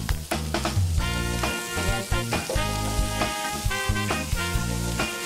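Vegetables tipped into a pan of melted margarine with onion and garlic, frying with a steady loud sizzle over background music and occasional stirring.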